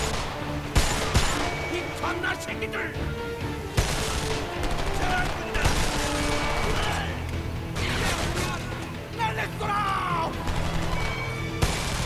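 An ACR rifle fires in the war shooter Homefront, with repeated bursts of gunfire and crashing impacts. A dense, busy battle soundscape continues throughout.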